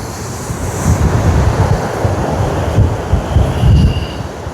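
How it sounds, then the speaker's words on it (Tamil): Ocean waves crash on rocks at Mirissa beach, a loud continuous roar of surf with rumbling surges and wind buffeting close by. "சாரலும் அடிக்க, அலையும் அடிக்க, அப்படி ஒரு காட்சி."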